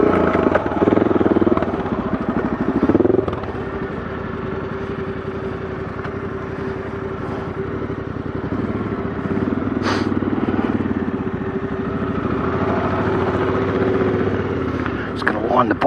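Adventure motorcycles idle and rumble close by as riders line the bikes up on a Flinders Ranges outback track in South Australia, a steady engine drone running throughout with people talking over it.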